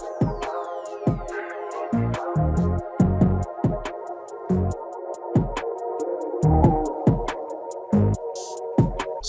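The verse of a trapsoul beat plays back with deep booming 808 kicks, crisp hi-hats and snappy percussion over sustained pads and melodic layers, steady and loud with no talking.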